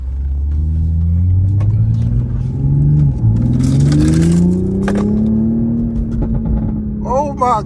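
Toyota Supra engine rumbling and revving up in rising sweeps, with a few sharp exhaust pops near the end, loud and close, while people talk over it.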